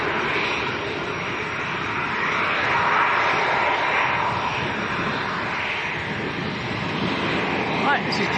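A Jet2 Boeing 737-300 airliner bound for Palma at Leeds Bradford Airport gives off a steady, loud engine roar that holds without a break throughout.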